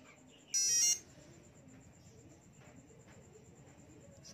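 A motorcycle fingerprint scanner gives one sharp electronic beep lasting under half a second during a reset, close and clear over quiet background noise.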